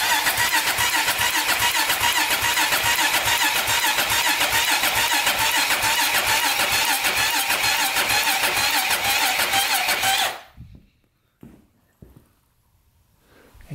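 A Honda 400ex ATV engine cranking over on the starter while oil is pumped through a turbo oil line, a loud, fast, steady whirring churn for about ten seconds that then cuts off into near silence.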